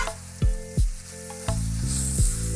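Teriyaki-glazed hibachi chicken and vegetables sizzle steadily on a Blackstone griddle, cut by four loud spatula scrapes and flips in a loose rhythm, close and alone.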